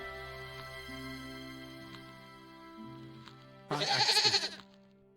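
A goat in the adventure game Broken Sword lets out one loud, wavering bleat near the end, rising over quiet background music and ambience.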